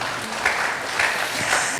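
A church congregation applauds during a sermon, a fairly soft, even wash of clapping with slight swells, no voices on top.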